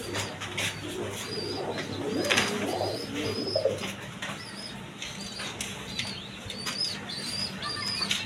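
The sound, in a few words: pair of pigeons cooing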